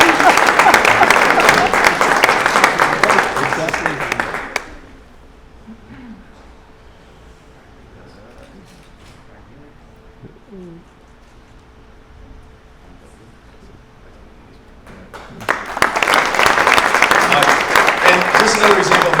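An audience at an infrastructure academy award event claps loudly for an award recipient, a dense burst that cuts off abruptly and leaves quiet murmur and faint voices, then a second strong round of applause rises and carries to the end.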